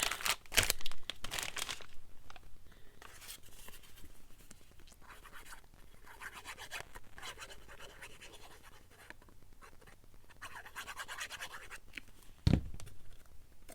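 Packing paper crinkles and scratches close up, a loud crumpling burst at the start, then softer rustling and a sharp crackle near the end.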